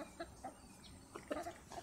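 Chickens clucking softly at snack time, with a few short, scattered clucks and calls close by over a quiet background.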